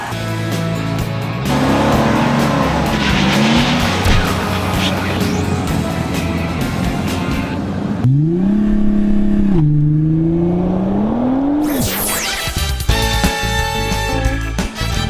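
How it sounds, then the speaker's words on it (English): A 1963 Chrysler Turbine Car runs with a smooth, steady whir, and its jet-like whine swells and rises toward the end, mixed with other continuous sound. "it's a 1963 Chrysler Turbine Car"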